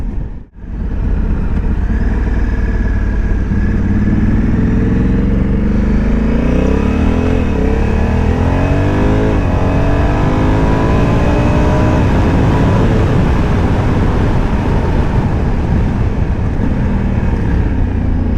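A motorcycle with a DCT gearbox accelerates hard in sport mode, its engine roaring loud and close with steadily rising pitch that steps through several gear shifts over a sustained run, with wind noise throughout.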